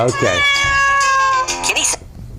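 A cat gives a drawn-out, wavering meow for about two seconds, loud and close, with a voice in the background.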